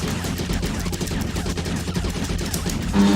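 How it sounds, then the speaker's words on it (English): Rapid, dense volleys of the player's ship firing in the shoot-'em-up Dariusburst CS, loud and continuous like a machine-gun stream with no pauses and no voices. "See, my shots are more powerful now."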